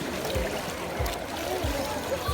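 A toy Nemo clownfish flaps its fins in pool water, making soft rhythmic splashes and low thumps about every two-thirds of a second over a steady watery wash.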